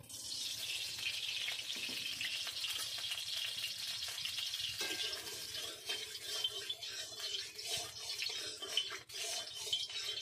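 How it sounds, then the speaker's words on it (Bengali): Eggs frying in mustard oil in a pan, giving a steady close hiss and crackle that fills the whole stretch, with a few small bubbling spurts and faint scrapes in the middle. "এখন আমি ডিমগুলো ভেজে নেব। দিয়ে দেবো সর্ষের তেল"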